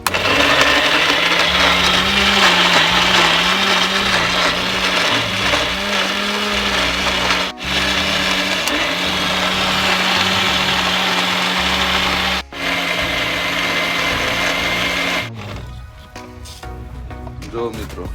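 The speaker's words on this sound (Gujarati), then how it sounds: "મિક્સરમાં ગ્રાઇન્ડ થઈ ગયું." An electric mixer grinder blends chutney for idli in a home kitchen. Its loud, steady motor whir and grinding run close up for about fifteen seconds, with two brief dips, then cut off.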